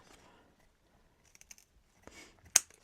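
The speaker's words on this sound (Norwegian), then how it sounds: "Den skal jeg nå klippe og ta med inn. Da klipper jeg toppene." Scissors snip the tops of a purple basil plant in a kitchen garden, a few faint clicks followed by one sharp, close cut standing out alone.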